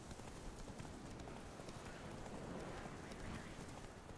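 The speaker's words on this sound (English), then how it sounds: "It's a weeping horse." Faint, dense hoofbeats of a horse in Witcher 3: The Wild Hunt patter continuously beneath a hiss of ambient outdoor noise, distant and without voices.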